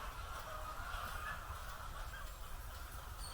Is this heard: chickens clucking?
yes